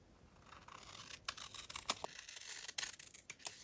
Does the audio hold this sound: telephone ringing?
no